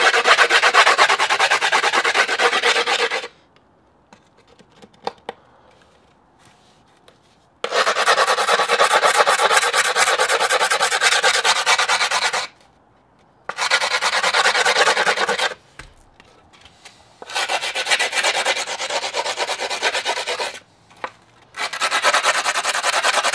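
Scratching at an angle while assembling a skateboard makes loud, steady rasping strokes in long bursts of several seconds, separated by short silences, with no talking.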